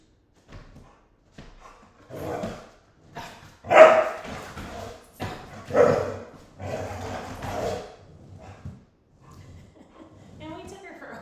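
A dog barks in short bursts, loud and close, with a few yips in between, mixed with a woman's chatter during a home arm and ab workout.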